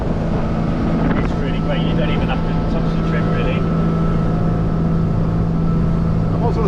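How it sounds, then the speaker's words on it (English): A motorboat engine runs at speed with a steady roar, mixed with wind buffeting and rushing water, while people talk over it. "It's a real cracking engine for the boat."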